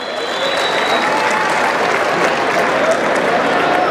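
A crowd at a bull tournament in Tamazulapan applauds in a dense, sustained burst of clapping that stays even throughout, with a faint voice underneath.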